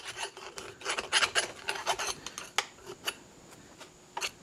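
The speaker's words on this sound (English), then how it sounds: "file the burrs off the inside of this." Small rat tail file rasping burrs off the inside of a cut PTO drive shaft on a Kubota tractor, in short, quiet irregular strokes with brief pauses, close up and alone.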